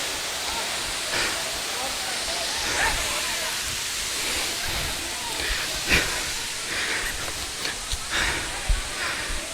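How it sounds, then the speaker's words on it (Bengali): Khoiyachora waterfall pouring down, a steady broadband rush of falling water filling the whole scene, with a few brief knocks and rustles on top. "ঝর্ণার পানি যেমন ঝরছে"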